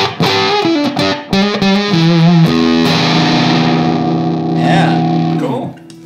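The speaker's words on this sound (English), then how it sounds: "So you have level, fuzz, or what would be like a gain knob on a distortion pedal, and a tone knob." Electric guitar played through a fuzz pedal, a few distorted notes and chords ringing loud and sustained with a long decaying tail; no speech over it.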